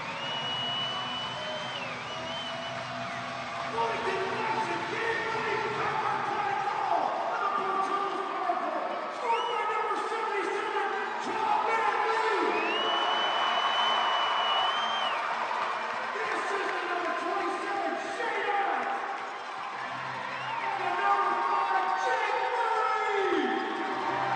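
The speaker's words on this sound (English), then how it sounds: "On a round of applause for the Bison coming back to win this game." Crowd at a Bloomington Bison ECHL hockey game cheers and applauds a comeback win, a loud sustained roar with whoops and whistles under an announcer's voice.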